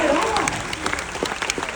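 Dense audience applause fills the room, many hands clapping steadily at close range, with a voice briefly heard over the start of it.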